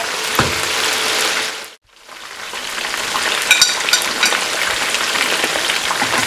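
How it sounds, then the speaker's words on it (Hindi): Chicken fries lightly with salt in a pan for Irani chicken karahi, giving a steady, close sizzle that dips into a brief near-silence before resuming, with crackling pops. "अब ये हल्का हल्का फ्राई हो रहा है।"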